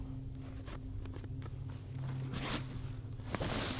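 A small zipper pouch on a bushcraft day ruck backpack is worked open, with short scratchy zipping and rustling bursts amid handling noise and a low background hum, fairly close and soft.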